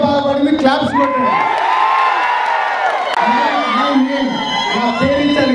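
A large crowd cheers, whoops and shouts loudly and continuously at the Shatamanam Bhavati platinum disc film function, with excited voices rising over the din throughout.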